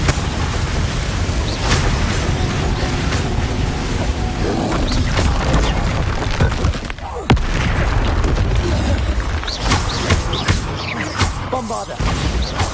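Explosive spell effects cast in the Hogwarts Legacy video game, loud booms and crashing bursts packed densely together under a voice calling out spell names.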